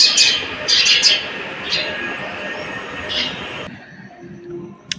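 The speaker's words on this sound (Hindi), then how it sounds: "यहाँ पे चिड़िया की आवाज़ सुनिए।" Several birds chirp in short bright bursts during an early morning outdoors at a home, over a steady low background rumble; the chirps are moderately near and stop partway through, leaving a quieter ambience.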